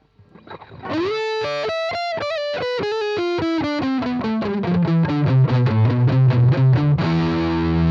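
Heavily distorted high-gain electric guitar through a Peavey Envoy 110 amp, a sustained crunchy note bending down into a fast run of chugging, saturated riffs that grow louder toward the end.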